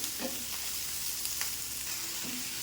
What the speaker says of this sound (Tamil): இந்த கத்திரிக்காயை நல்லா சுருளாக வதக்கணும்.